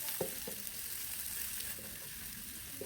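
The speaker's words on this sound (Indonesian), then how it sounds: "Setelah minyak panas baru ditumis bawang putih dan juga bawang bombaynya." Garlic and onion fry in hot oil with a faint, steady sizzling hiss, broken by a few soft clicks of stirring near the start.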